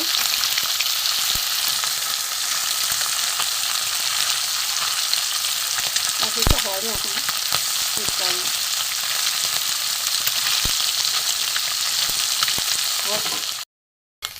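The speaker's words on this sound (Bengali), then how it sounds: "এবারে মরলা মাছগুলো ভাজা হয়ে গেছে দ্বিতীয়বারে" Mola fish frying in mustard oil in a wok, a steady loud sizzle throughout with a few spatula scrapes partway through, cutting out just before the end.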